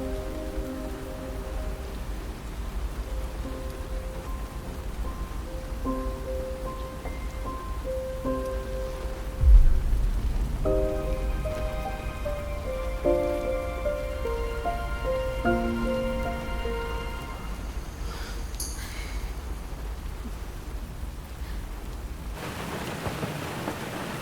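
Rain falls in a soft steady patter while quiet tonal music plays over it, with a brief low thump partway through and the sound cutting off near the end.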